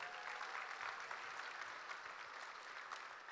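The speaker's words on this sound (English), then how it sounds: "Give him a hand clap if you would" A church congregation claps steadily for a welcomed member, an even wash of many hands at moderate distance, sustained throughout with no talk.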